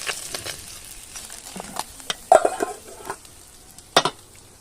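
Khaira fish coated in salt and turmeric fry in a pan; a soft, steady sizzle sits under sharp clinks and scrapes of a utensil stirring and turning the pieces, with no one talking.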